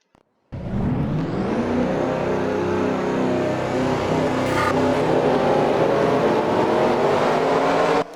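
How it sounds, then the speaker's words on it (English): Several race car engines fire up together at a race start after a brief silence, then hold a loud, steady roar with rising revs. "Drivers, start your engines."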